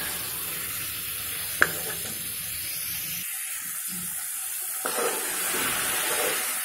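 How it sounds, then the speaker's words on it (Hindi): Potatoes and eggs fry in a masala in a home kitchen pan, a steady close sizzle with a brief utensil clink and quieter stirring scrapes. "अच्छा मसाला आलू और अंडे हमारे अच्छी तरह भून गए"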